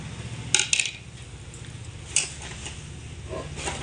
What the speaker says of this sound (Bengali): এভাবে করে একটু খুন্তি দিয়ে নাড়াচাড়া করে ম্যাগিগুলোকে একটু ছাড়িয়ে নিতে হবে